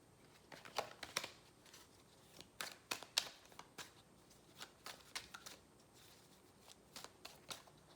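Tarot cards being shuffled by hand, a run of crisp riffling bursts and soft slaps in irregular clusters with short pauses, close and fairly quiet with no talking.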